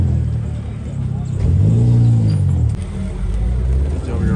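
A Subaru WRX pulls up at a car meet, its engine rumbling low and swelling louder as it nears, with people talking over it.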